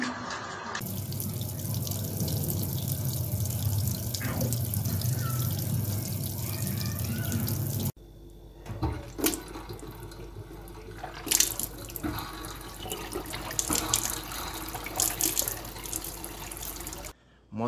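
Tap water runs steadily into a sink in a home in Iran, a continuous splashing wash that shifts in character midway, with faint background noise and occasional knocks.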